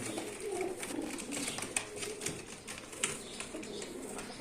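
Pigeons coo softly amid a busy background of rustling and wing flaps, with occasional sharper flutters, fairly close and continuous.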